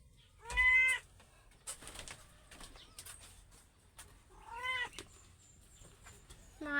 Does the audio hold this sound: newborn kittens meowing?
yes